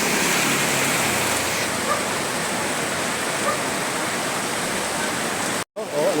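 Heavy rain and strongly rushing floodwater in Payatas, a dense, loud, continuous roar close by. It cuts out for a moment near the end.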